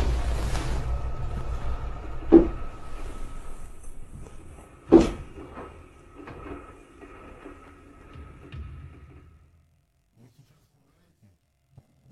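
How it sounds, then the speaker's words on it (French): An outer door bangs twice with sharp, loud thuds over a low background rumble, followed by softer knocks before it fades to near silence. "Puis, la porte extérieure se met à claquer."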